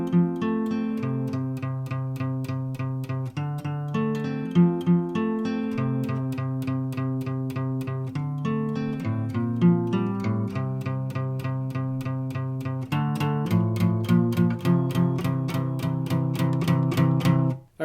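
Guitar fill from a song, strummed chords alternating with picked single notes in a steady, bright rhythm, played alone and close.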